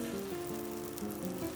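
Korean jeon pancakes with meat frying in a pan for a Chuseok holiday platter, a steady close sizzle with crackling oil over a faint humming tone, no talking.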